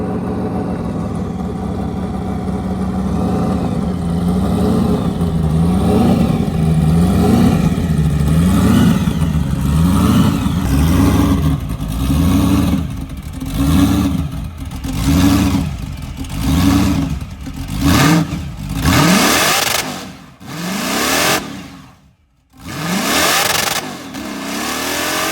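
A freshly rebuilt car engine revs repeatedly during heat cycles to bed in the piston rings, in rising and falling surges, loud and close, with a few sharper blips and a brief drop toward the end.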